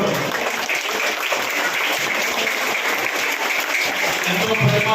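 A crowd at a school event claps for the children, producing dense, continuous applause that stays even and loud for the whole stretch.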